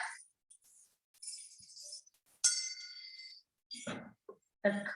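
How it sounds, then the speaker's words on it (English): A clapperless bell is struck against another bell, giving a few short ringing tones, one sustained and clearer, between quiet gaps and bits of someone talking. "the clapperless bell can be used to ring another bell."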